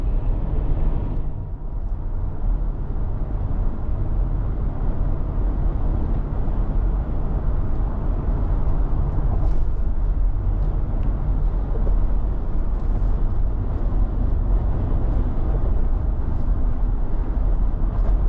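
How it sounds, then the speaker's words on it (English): Steady broadband wind roar fills the cabin of a 2022 Mercedes-Benz G 550 while driving, a constant rushing hiss over low road rumble, loud and unbroken with no talk. "wind noise is pretty crazy"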